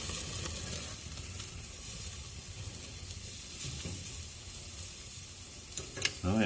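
Thick strip steaks sizzle on an indoor grill with a steady, dense crackling hiss throughout, and a brief clatter near the end.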